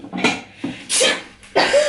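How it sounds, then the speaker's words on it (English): Sneezes from a woman with sinus trouble during a prank on her boyfriend, three sharp bursts spaced apart within two seconds, close and loud, with no speech between them. "you sneezed on me twice though"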